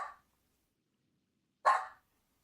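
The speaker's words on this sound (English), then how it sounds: "He's just got such like a dog bark." A dog gives two sharp, loud barks about a second and a half apart, close by, with silence between them.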